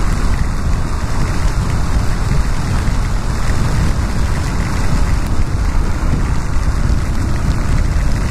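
Steady, dense hiss of heavy rain, loud and unbroken throughout, with a low rumbling undertone of traffic, heard while riding a Yamaha XTZ250 motorcycle on Marginal Pinheiros in São Paulo.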